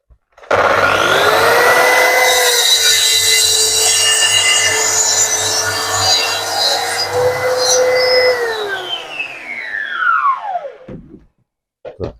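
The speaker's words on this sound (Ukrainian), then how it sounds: "коли здійснюєте такі різи, обов'язково добре притискайте саму занурювальну пилу до шини направляючої" A plunge saw running on a guide rail whines loudly at a steady pitch through a long cut in a board lasting about ten seconds, then spins down and stops.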